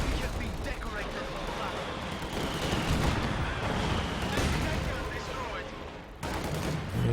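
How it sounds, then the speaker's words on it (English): Katyusha rocket launcher firing in a strategy video game match, a dense rolling barrage of rapid blasts and crackles heard under a commentator's voice. "So we see a Katyusha firing."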